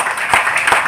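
Audience applause at a company event in Chandigarh, a brief burst of many hands clapping in a hall, fairly loud and dense with a few sharper claps standing out.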